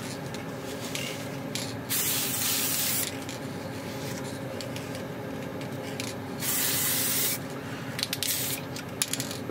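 Spray paint applied as a final coat on a steampunk motorised Kraken gauge kit: two sustained bursts of aerosol hiss, each lasting over a second, close and steady over a quiet room background.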